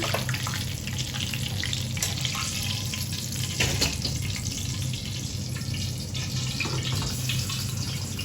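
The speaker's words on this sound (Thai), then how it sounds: "ก็นำปลาลงทอดในขณะที่ทอดก็ทอดไฟกลางนะคะ" Fresh mackerel frying in oil over medium heat, giving a steady, even sizzle and crackle that stays close and constant the whole time with no talking.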